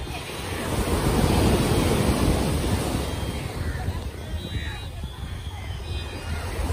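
Sea surf washing onto a beach in Indonesia, a broad steady roar of breaking waves with wind buffeting the microphone, loud and continuous, with a voice speaking over it.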